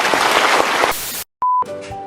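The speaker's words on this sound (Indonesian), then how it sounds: "Kita berikan tepuk tangan." Lively clapping from an audience at an Islamic boarding school Eid al-Adha gathering, dense and close for about a second before cutting off, followed by a short beep tone and a faint tonal sound.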